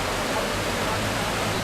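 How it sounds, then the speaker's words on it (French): A small hot spring at the Baths of Hercule in Orsova, Romania, pours out as a dense, steady rush of flowing water, close and continuous with no break across the brief moment. "Voici encore une petite source d'eau chaude"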